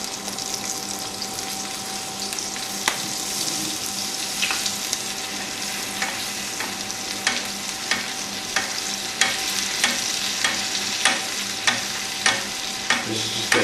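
A rack of lamb sears in butter in a hot pan, sizzling loudly and continuously, with sharp spatters and periodic spoon-basting clicks and scrapes recurring steadily through the sound.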